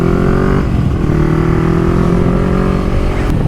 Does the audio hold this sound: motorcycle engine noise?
yes